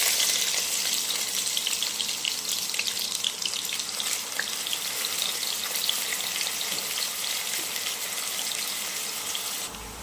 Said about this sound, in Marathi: आपलं तेल गरम झालेलं आहे आता आपण कांदा टाकून घेऊया